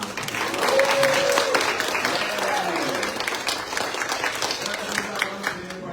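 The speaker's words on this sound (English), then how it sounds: "Please give Litquick and Foglifter a nice big round of applause." Audience at a literary journal issue release gives a loud, sustained round of applause with cheering, dense clapping filling the room throughout, a few voices rising above it.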